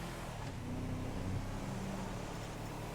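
A Declasse Yosemite 1500 pickup truck, unupgraded, drives in GTA Online with a steady engine drone that holds fairly even for the whole stretch, with no voices over it.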